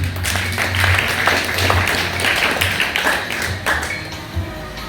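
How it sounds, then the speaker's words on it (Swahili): Congregation applauding at a Sunday church service, a dense steady patter of many hands clapping at close range for about five seconds with no voice over it. "Ni Yesu, makofi mazuri."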